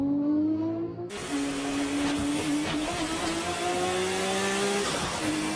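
Mines Tuning Nissan R34 GTR engine howling at high revs, a loud, raspy, continuous roar that cuts in abruptly after a quieter tonal opening, with rising pitch sweeps as the car accelerates.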